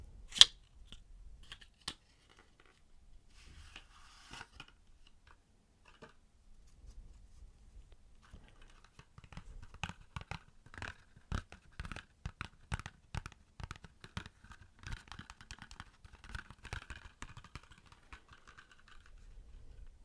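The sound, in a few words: opening a new deck of playing cards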